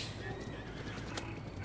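A horse in the video game The Legend of Zelda: Breath of the Wild gives a loud whinny over a dense, continuous game soundscape, with clip-clop of hooves mixed in.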